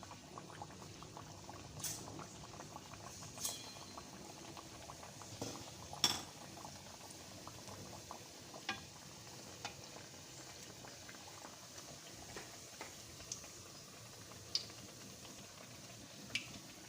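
Papri dough pieces for Delhi-style bhalla papri chaat fry in hot oil with a steady, soft bubbling sizzle and scattered small pops and clinks, no talk over it.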